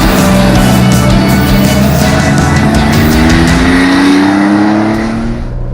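A 1987 Porsche 911 G-body, air-cooled and backdated, drives at sustained loud engine drone with rising pitch as it accelerates, close and continuous, easing off slightly at the end.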